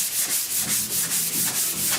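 Sanding block worked by hand over primer-surfacer on the rusty roof of a 1969 Chevrolet C10, giving steady rhythmic rasping strokes about four per second, close and continuous with no talk.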